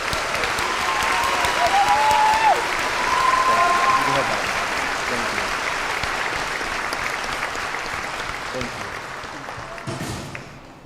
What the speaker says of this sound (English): Can we give these four gentlemen one more round of applause?